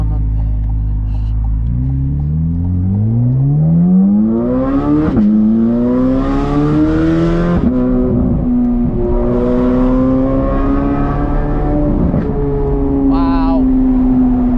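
A Chevrolet Corvette C8 Z06 engine revs up loudly, its pitch climbing smoothly before sharp downshifts with quick blips, heard close from inside the car with occasional talk over it.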